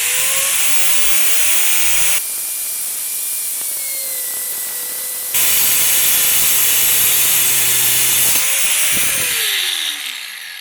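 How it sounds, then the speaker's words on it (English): An angle grinder rough-cutting through an airsoft gun barrel, a loud continuous whine and hiss with shifting pitch, briefly dipping before surging again and tapering at the end. "first the rough cut with the angle grinder"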